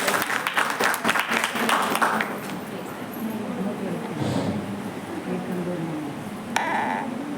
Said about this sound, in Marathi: त्यांच्यासाठी एकदा जोरदार टाळ्या होऊन जातात.